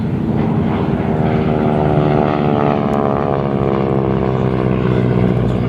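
A propeller-driven AT trainer aircraft flies at the 2015 Geneseo airshow, its engine droning loud and steady with a strong harmonic buzz that holds throughout.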